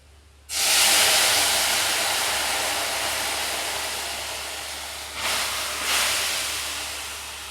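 Fried garlic mixture is poured into a hot wok for a shrimp and Malabar spinach dish, setting off an abrupt, loud, hissing sizzle that slowly fades, then swells again briefly near the end.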